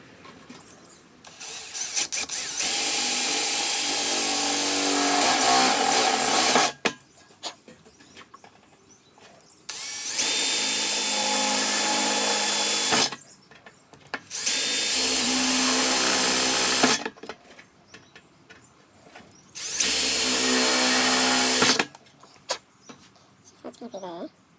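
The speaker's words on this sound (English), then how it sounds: "I'll grab a drill and we'll start marking those out. Okay, let's send some holes through this one." A power drill bores holes through a radiator fan shroud during work on an XK Falcon, running in four long bursts of several seconds each with quiet pauses between.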